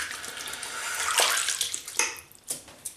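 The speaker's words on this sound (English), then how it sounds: "Right, rinse." Tap water runs steadily into a sink as hands are rinsed, with splashing that swells and breaks into uneven spatters near the end.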